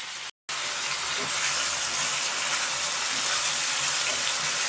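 Green chillies sizzle in a pan of chowmein, a steady, close frying hiss that runs without pause except for a brief dropout near the start.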